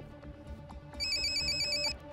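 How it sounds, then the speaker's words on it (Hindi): A phone ringtone plays, a bright repeating electronic chime pattern that starts soft and then swells louder with high tonal beeps, alone and close. "तारी का फोन"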